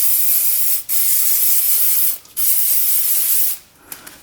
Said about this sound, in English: Just using some WD-40.